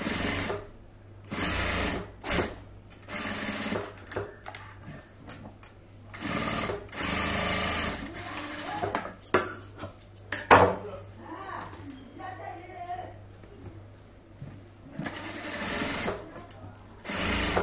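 Sewing machine stitching along the edge of blouse fabric, running in loud bursts of rapid whirring that start and stop, with short pauses, a metallic clink and a voice speaking between runs.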